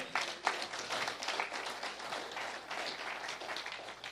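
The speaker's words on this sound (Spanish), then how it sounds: "¿Cuánto le dan un aplauso al Señor?" A church congregation in Utah applauding during a sermon, many hands clapping in a dense, continuous patter that sounds somewhat distant and soft across the room.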